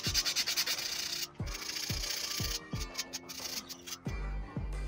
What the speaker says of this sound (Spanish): vamos a limar por estas partes para que sea un poco más ergonómico su agarrado